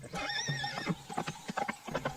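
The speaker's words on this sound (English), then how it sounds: "the horse ran away" A horse escaping from a farm stable neighs in a rising whinny, then its hooves clip-clop in quick, uneven beats, fairly close and clear with no talk over it.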